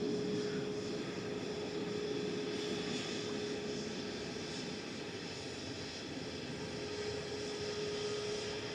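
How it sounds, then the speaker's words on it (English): A Boeing 777 landing at Manchester Airport with only light reverse thrust, a steady broadband jet roar with a sustained tonal whine, continuous and moderately distant throughout. "It's quite a tame arrival for the 777 though."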